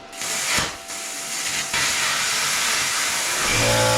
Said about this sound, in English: I'm gonna grab the plasma cutter, smack that out of there